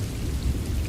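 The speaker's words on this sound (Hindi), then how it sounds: "दुकान में अब सिर्फ बारिश की आवाज" Steady rain falls outside a small shop, a dense, continuous hiss of drops with a deep low rumble underneath, loud and even throughout with no voices.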